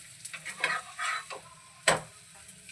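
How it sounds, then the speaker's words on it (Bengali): A cheesy chicken stuffed paratha fries in white oil in a pan, giving a soft, steady sizzle broken by a few scraping stirs and one sharper clatter of a utensil. "এখানে আমি সাদা তেল দিয়ে দিয়েছি, খুব সুন্দর ভাজা হচ্ছে"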